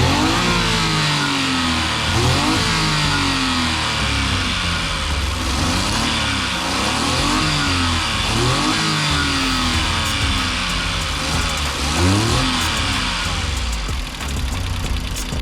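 A Suzuki DA17V van's R06A VVT 12-valve engine runs loudly up close, its pitch repeatedly rising and falling in a rhythmic series of revs over a steady mechanical drone.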